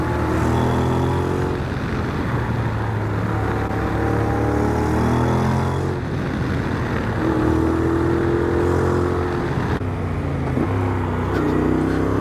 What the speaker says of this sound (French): Vous voyez le petit rétrogradage, j'ai rien demandé,